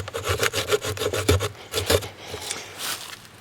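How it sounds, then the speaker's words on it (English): A cheap survival kit knife's saw edge cuts into wood with fast, rhythmic rasping back-and-forth strokes, loud and close, slowing near the end. "I just wanna see how well this actually saws."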